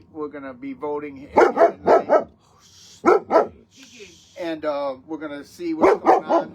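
Dogs bark repeatedly in the background of a home setting, several sharp bursts cutting through ongoing talk, with people speaking over them.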